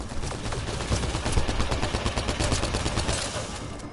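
Dense, sustained gunfire from a Mass Effect Andromeda firefight, rapid overlapping shots crackling continuously with no break for nearly four seconds, loud and close.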